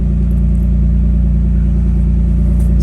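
A Toyota Supra MK4 engine runs loud and close, a deep steady rumble that holds an even pitch throughout without a clear rise into a rev.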